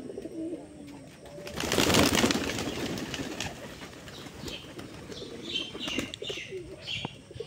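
Pigeons coo close by, soft repeated calls with brief chirps and a burst of wing flapping near the start, while a faint voice talks in the background.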